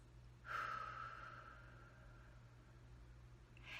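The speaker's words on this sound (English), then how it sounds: "and then breathe out for 3 to 4 seconds." A slow, deep breath out during a guided mindfulness exercise: a soft, steady airy exhale that swells at the start, then fades gradually over a few seconds over a quiet low hum.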